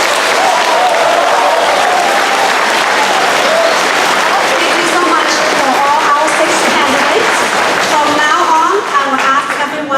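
Sustained applause from a sizable audience at a Board of Education forum, dense and steady throughout, with voices faintly mixed in underneath.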